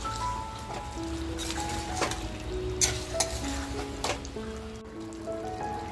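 Mutton simmers with curry broth in a pan, giving a steady, close sizzle with soft stirring scrapes and scattered clinks throughout and no talk.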